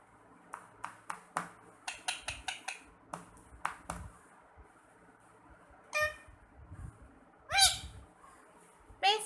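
Parrot giving a run of sharp clicks and chirps followed by a few louder squawking calls, close and clear over a quiet room.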